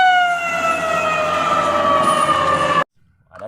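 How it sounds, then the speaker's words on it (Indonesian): A toy ambulance siren plays loud and close as a steady electronic wail with stacked tones sliding slightly downward, cutting off abruptly near the end, followed by faint handling noise. "Kalau yang ini ada ambulans."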